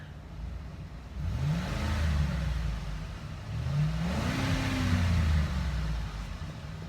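An SUV engine revs twice, each time swelling into a rising roar and settling back to a steady idle, heard close up.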